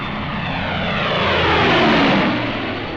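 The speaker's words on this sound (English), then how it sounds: "Whenever the fields were dry enough, our planes took off to tackle the Luftwaffe." Propeller warplanes taking off from a wartime airfield in Tunisia roar loudly, the engine drone swelling to a peak near the middle and then fading slightly as they pass.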